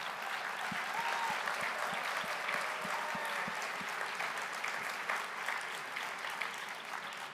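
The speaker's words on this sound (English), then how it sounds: "a great round of applause for this initiative that is promoting women in nuclear" Steady applause from a large conference keynote audience at an awards ceremony, even continuous clapping heard throughout at a moderate distance.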